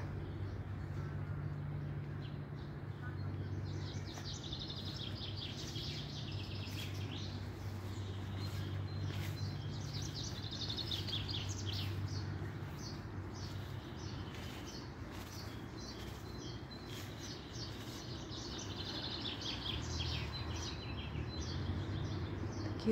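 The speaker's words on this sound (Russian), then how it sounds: "Птички поют." Birds chirp and call near lilac bushes, a scattered series of bright, moderately distant calls over a low hum of background noise, continuing for the whole stretch.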